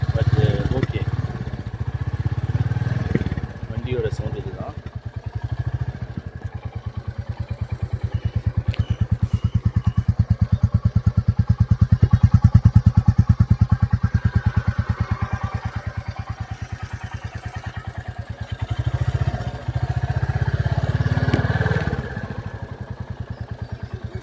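A Royal Enfield Classic 350 motorcycle engine runs at a steady idle nearby, making an even thumping putter that swells slightly in the middle of the clip.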